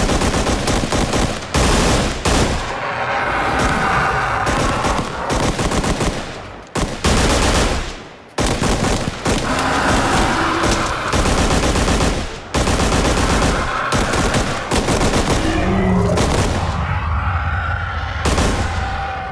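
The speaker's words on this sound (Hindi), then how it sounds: "गोलियां दागने के लिए तैयार" Bursts of rapid machine gun fire rattle loudly and almost continuously, with short gaps between sustained volleys and heavy booming impacts.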